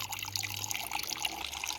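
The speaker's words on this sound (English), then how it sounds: "Water coming out." Filtered water trickles and drips steadily out of a Millbank canvas bag outdoors, a soft continuous patter of liquid falling with no talking.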